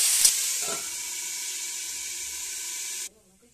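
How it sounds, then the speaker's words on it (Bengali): Potato and carrot pieces frying in oil under a lid give a steady, close sizzle with a brief clatter near the start, cutting off abruptly before the end. "এটা আমি একটুখানি ঢাকা দিয়ে ভেজে নেব।"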